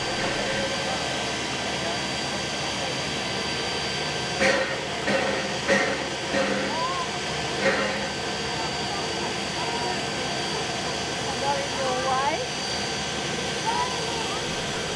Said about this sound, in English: out of the blue, a Hercules transport aircraft flies by, heading its way to the Royal Australian Air Force Base